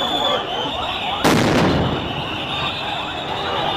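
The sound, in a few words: sound grenade exploding at a protest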